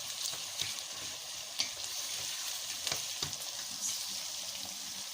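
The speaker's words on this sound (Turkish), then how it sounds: "Salçamızı iyice kavuruyoruz." Tomato and pepper paste sautéing in a pan, a soft continuous sizzle with occasional light scrapes and taps of the spoon, quiet and close.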